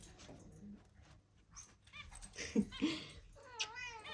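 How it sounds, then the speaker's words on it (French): A cat lets out a few short, grumbling meows up close, whiny and complaining, with a longer wavering call at the end. "C'est un chat râleur"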